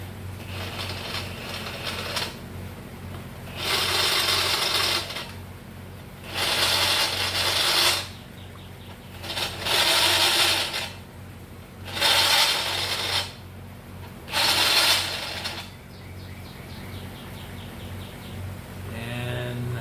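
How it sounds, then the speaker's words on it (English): Five separate bursts of high, gritty grinding from a drill with a countersink bit at slow speed, deburring holes, each lasting about a second, over a steady low motor hum. "taking the drill with the countersink on it and just at a slow speed"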